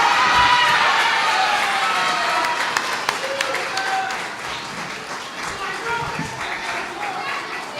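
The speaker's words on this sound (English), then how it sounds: "a round of applause for all the awardees" An audience at an Anglo-Indian association awards ceremony applauds the awardees gathered on stage, with loud, sustained clapping and scattered voices and cheers that gradually soften.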